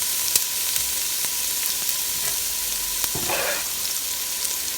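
Peppers and onions sizzling as they go back into a Ninja Foodi on sear/sauté, a steady frying hiss with occasional clicks and a brief louder burst of sizzle midway, no voices.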